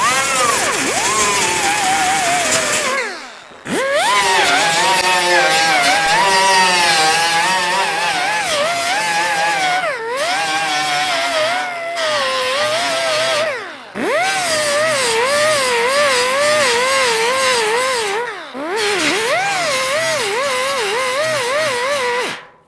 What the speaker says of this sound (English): So I'm using a 36 grit on our little pneumatic die grinder here.